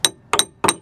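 A hammer taps the centre of a wheel bearing during a wheel bearing change, giving three sharp metallic strikes close by, the second a quick double hit, with no talk.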